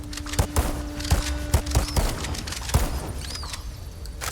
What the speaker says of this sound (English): You can like rapid fire the shotgun